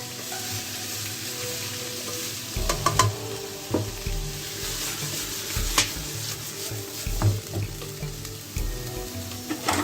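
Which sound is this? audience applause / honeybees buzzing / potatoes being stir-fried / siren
potatoes being stir-fried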